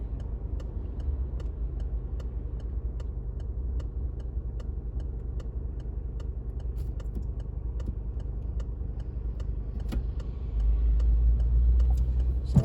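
A car's turn signal indicator ticks in a steady, even rhythm inside the cabin while waiting at traffic lights, faint clicks over a low idling engine hum that rises slightly near the end.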